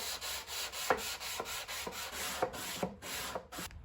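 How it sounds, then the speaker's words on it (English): Sandpaper stuck to a wooden block rubs over painted wood on a dresser, close and scratchy, in rapid back-and-forth strokes with occasional sharper knocks, roughly eight passes in four seconds. "To sand these trickier areas, I used a block of wood with sandpaper stuck to it"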